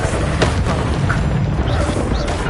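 A Confringo blasting spell explodes in a video game, a dense, loud, continuous booming roar with crackling debris that holds steady for the whole stretch, with no voices.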